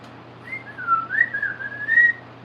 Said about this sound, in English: I'm getting my whistle back.